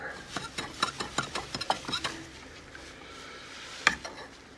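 First wort hops are stirred into wort in a homebrew kettle, giving a quick series of rhythmic scraping, swishing strokes for about two seconds, then quieter sloshing and one sharp knock.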